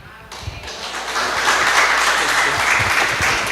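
A church congregation applauds, the clapping swelling into loud, sustained applause with a few thumps and some voices mixed in.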